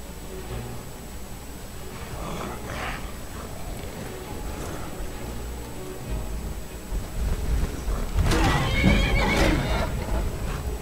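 Horses in the Skyrim video game whinny loudly and hooves clatter, with faint neighs early on and a surge of neighing and galloping near the end over a rumbling, stormy background.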